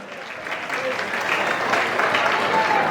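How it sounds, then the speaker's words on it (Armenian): A festive crowd honoring the godparents at a celebration claps loudly, a dense, steady burst of applause from the hall with a voice faintly underneath. "Քավորական ընտանիքի համար բարձր ծափարություններ։"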